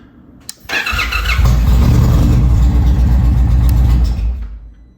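Indian Challenger motorcycle engine cranking and firing up, then running with a loud, steady, deep idle rumble close by, no voices over it.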